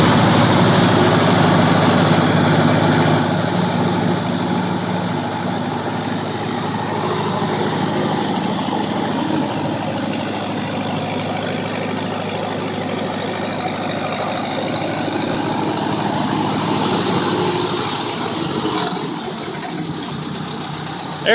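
A farm engine cranks over and catches, then runs on at a steady rough idle that drops to a lower idle toward the end, loud and close with no talk.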